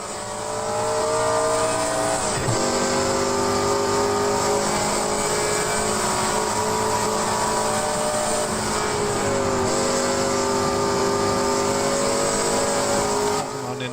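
Group C race cars roar at Spa in a sim racing game, engines at high revs with gear changes and aggressive downshifts, a loud continuous onboard drone with pitch dropping and climbing.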